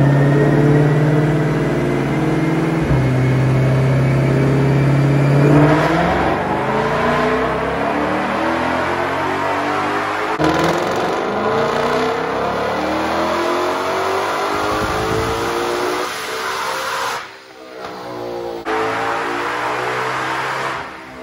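A tuned car runs a dyno pull, its engine droning loud and close as revs climb steadily for many seconds, then the pitch drops and the engine briefly cuts before revving again.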